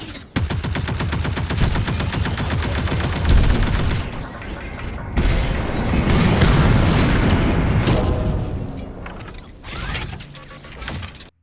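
Loud, dense gunfire in a film sound mix: a rapid mechanical rattle of shots rolls on for several seconds, then heavy booming bursts and clanking machinery of the gun retracting, all close and without talk.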